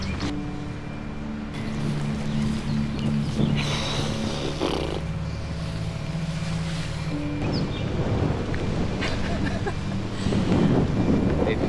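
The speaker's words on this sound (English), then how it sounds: "As you can hear, it's pretty windy." Strong wind gusting by a river, roaring and buffeting the microphone in a loud, continuous rush with low rumbling surges, steady and close throughout.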